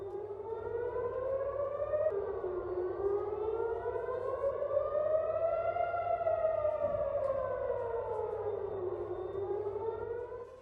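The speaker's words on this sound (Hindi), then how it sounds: "तेल अवीव में एयर रेड सायरन देखिए किस तरह से बज रहे हैं" Air raid sirens in Tel Aviv wail continuously, several overlapping rising and falling tones sweeping slowly, sounding distant yet steady across the whole stretch over a low background hum.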